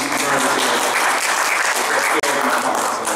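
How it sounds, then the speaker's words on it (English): A hall audience at a Tuskegee Boy Scout Court of Honor breaks into loud, sustained applause, many hands clapping densely and evenly throughout. "Please give him a round of applause."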